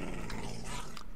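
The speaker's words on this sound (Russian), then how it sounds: "Пёс тоже что-то гавкает недовольный." Minecraft dog growling low and steadily, close and continuous, with a small yip near the end, heard inside a modded Twilight Forest game session.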